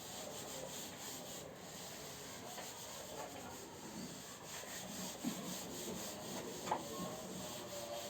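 A duster or cloth rubs writing off a classroom board, a continuous faint scrubbing rasp with a couple of brief knocks, no speech.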